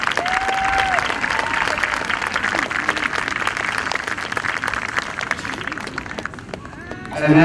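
Sustained applause from a large crowd at a high school homecoming football game halftime, dense and steady clapping with scattered cheers, swelling louder near the end as a voice begins over it.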